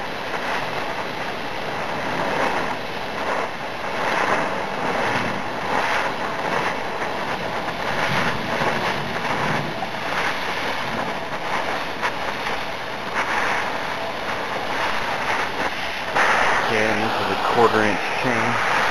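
A high-output 20 lpm HHO dry-cell torch burns steadily while cutting through quarter-inch chain, a continuous loud, rough broadband roar with crackling texture throughout, with a voice briefly heard near the end.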